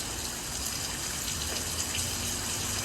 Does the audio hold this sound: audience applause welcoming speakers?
no